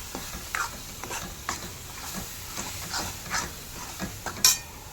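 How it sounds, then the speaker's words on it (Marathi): Spices and red chilli powder sizzle in hot oil for a Maharashtrian misal while a spoon stirs and scrapes the pan in repeated strokes, close and clear with no talking. "आता ह्याला थोडं तेल सुटेपर्यंत चांगले मसाले भाजून घ्यायचे आहेत।"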